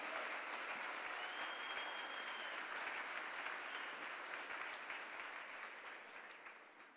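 A conference audience breaks into steady, dense applause that holds evenly and then slowly fades toward the end, heard alone with no speech.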